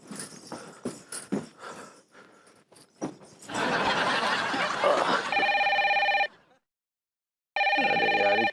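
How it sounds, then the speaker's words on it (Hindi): An old-style telephone bell rings loudly in two bursts at night, separated by a short silence, right after a stretch of muffled noise and clatter. "अरे यार इतनी रात को किसका फोन आ गया?"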